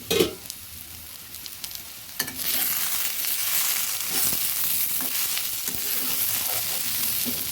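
Egg and potato sizzle steadily in a pan and are stirred now and then, scraping sounds over a continuous close frying hiss.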